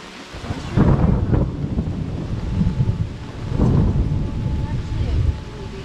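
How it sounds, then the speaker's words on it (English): Thunderstorm over an Adirondack lake campsite, with two deep rumbling rolls of thunder over steady rain hiss and some wind buffeting on the microphone. "it's gonna rain for 12 hours"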